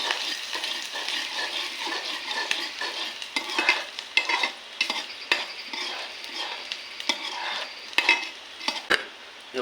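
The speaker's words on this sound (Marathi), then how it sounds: "कांदो कांदो परतून घेऊया आणि फोडणी आपली तडतडलेली आसा" Steady oil sizzle and crackle from onions and curry leaves frying in a pan for tempering, with occasional sharp pops and the scrape of a stirring spoon; no talking.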